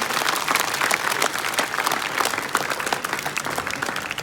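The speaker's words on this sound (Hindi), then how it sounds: "जोरदार ताली बजाओ भाई।" Audience applause from a crowd, vigorous and continuous clapping with dense individual claps, loud and sustained for the whole stretch.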